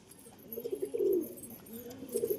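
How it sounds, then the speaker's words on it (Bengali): A pigeon coos close by in a short soft run of throaty, burbling calls, rising and falling twice, with no other sound around it. "এই হচ্ছে কবুতর"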